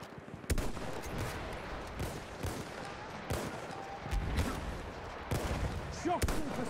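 Enemy machine gun fire in a video game crackles in quick bursts of sharp shots, fairly loud with a few heavier reports near the start and end, mixed with a voice talking over the action.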